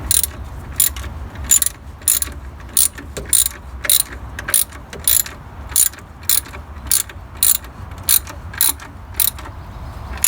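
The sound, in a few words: ratchet tightening idler pulley on Jeep Cherokee XJ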